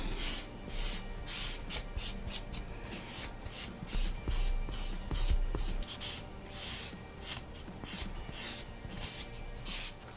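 Rapid rhythmic rasping of a nail file of around 200 grit across natural fingernails, close and fairly quiet, with short repeated strokes throughout.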